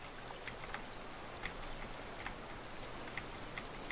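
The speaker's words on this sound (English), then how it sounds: "And now it's raining." Steady rain from the game Raft hisses continuously, with scattered drops ticking on surfaces, fairly quiet and unbroken throughout.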